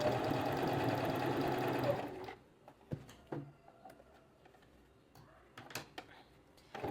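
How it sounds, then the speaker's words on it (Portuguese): A sewing machine runs in one steady, loud whir for about two seconds while topstitching around a garment collar with a wider seam margin, then stops, leaving quiet handling clicks and light taps. "Eu vou fazer uma margem maior com um pezinho de máquina pra gente contornar essa nossa gola."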